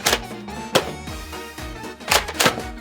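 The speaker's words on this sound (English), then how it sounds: "It does have slam fire" A Nerf N-Series blaster being slam fired, giving several sharp plastic thunks in uneven bursts, loud and close, with no talking.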